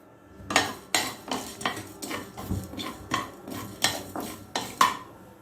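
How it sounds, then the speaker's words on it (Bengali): Whole coriander, fennel and cumin seeds are dry-roasted in a pan, stirred with repeated sharp scraping clacks of a utensil against the metal at an uneven, roughly half-second rhythm, close and clear with no talk. "একটু মৌরি আর এই যে জিরে এইগুলোকে আমি একটু ভেজে নেবো"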